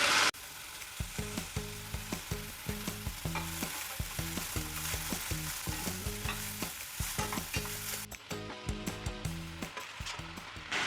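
Onions frying in a pan with green chillies and ginger for a baby potato masala curry, a continuous sizzle broken by repeated scraping strokes of a spoon stirring, with a brief pause near the end.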